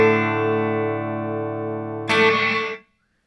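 An electric guitar chord rings through a Boss RV-5 reverb pedal set to gate mode, holding steady and bright, then a fresh strum swells briefly before the reverb is abruptly cut off to silence.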